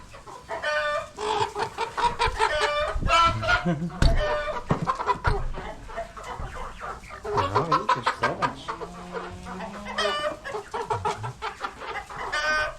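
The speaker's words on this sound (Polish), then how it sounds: "O, kogutek." Polish hen-house chickens, green-legged breed, cluck continuously in a busy, overlapping chorus with a rooster's call among them, close by, while someone speaks briefly over the flock.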